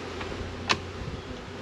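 Bees at an open eight-frame hive hum as a low, steady drone, with a single sharp click from the beekeeper's work standing out briefly.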